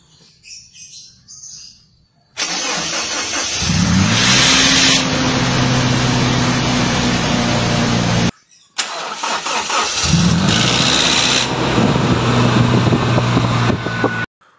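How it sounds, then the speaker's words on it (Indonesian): A car engine is cranked twice, each start beginning with a harsh grinding rasp from the starter motor before the engine catches and idles steadily; birds chirp faintly before. "penyebab bunyi kasar krek sesaat setelah kita start mesin mobil seperti berikut ini"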